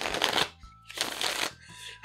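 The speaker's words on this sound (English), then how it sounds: "Just shuffling." Unsleeved Magic: The Gathering cards riffle-shuffled on a bare table, two bursts of brisk crisp cardboard flutter, each about half a second long, with quieter handling and a faint voice in the pause between.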